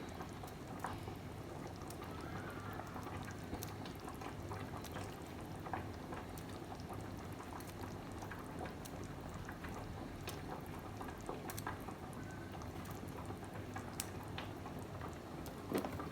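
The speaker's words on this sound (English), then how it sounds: "I'm going to throw in the meatballs now, so they cook a bit more as well" Meatballs simmer in a big pot of sauce, giving a faint, steady low bubbling with scattered soft pops that runs evenly throughout.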